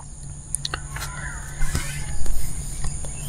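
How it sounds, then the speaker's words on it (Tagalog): Scattered morning bird calls at a campsite, including harsh crow-like caws, ring out over a steady low background hum, with chirps coming and going at moderate distance. "Nagising ako sa ingay ng mga ibon."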